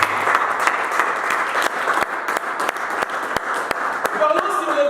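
Congregation at a church service applauding to acclaim Jesus, steady loud clapping from many hands sustained throughout, close and dense, with voices mixed in.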